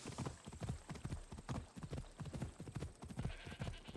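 Horse hooves galloping in Assassin's Creed Odyssey, a fast, steady clip-clop rhythm running through the whole stretch, moderately close but quiet in level, with no talk over it.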